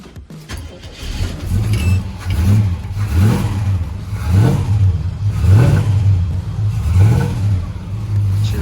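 A car engine cranks and catches, then revs repeatedly in rising surges, loud and close, with no talking.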